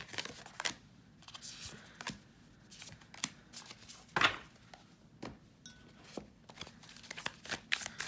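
Tarot cards are shuffled by hand in a string of quiet, crisp riffles and slaps, coming in irregular bursts with short pauses between, close up and alone.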